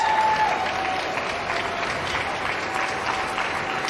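Steady applause from a dog show crowd during terrier group judging, a dense continuous wash of clapping that holds at an even level throughout, with a faint tone briefly audible underneath.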